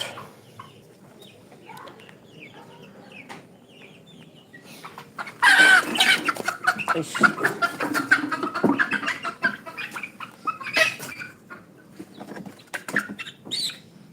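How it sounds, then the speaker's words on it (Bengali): Chickens on a farm in Nabinagar, Brahmanbaria: soft scattered clucks at first, then a loud burst of squawking and flapping as a hen is grabbed, followed by repeated agitated calls nearby. "দেখেন এই যে একটা মুরগি ধরলাম"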